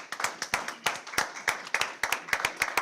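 A small crowd at a community board meeting claps at an uneven, moderate pace, with distinct individual handclaps close by rather than a full roar of applause.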